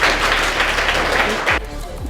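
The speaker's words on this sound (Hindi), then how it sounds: "सभी से कहेंगे इनके लिए जोरदार तालियां।" A brief burst of crowd applause, dense steady clapping for about a second and a half before it cuts off.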